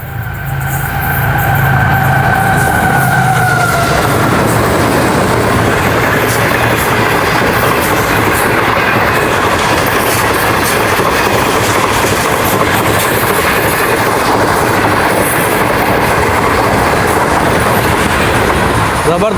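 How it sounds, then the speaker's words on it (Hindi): Green Line Express train passing at high speed through Jungshahi station, Pakistan: a loud, continuous roar of wheels and carriages with dense rattling clatter, preceded by a brief horn-like tone at the start, sustained close by throughout. "6 टाउन ग्रीन लाइन एक्सप्रेस आ रही है दोस्तों जंगशाही को थ्रू पास करने।"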